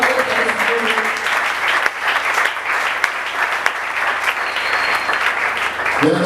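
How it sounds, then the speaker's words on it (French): A church congregation applauds Jesus at a Sunday service, steady dense clapping filling the room throughout, fairly loud and close, with a few scattered voices mixed in. "Est-ce que quelqu'un peut acclamer Jésus?"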